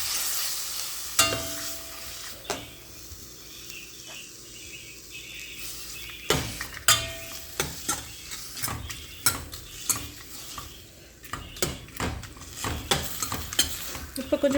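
Spoon scraping and clinking in a pan while rasam is stirred over the flame, with irregular knocks and sharp taps against the metal over a faint background sizzle.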